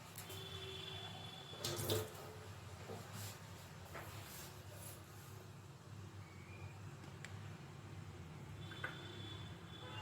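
Water running steadily over a stone grinding slab as it is washed, a faint, continuous splashing stream with a couple of brief knocks and clatters, no talk.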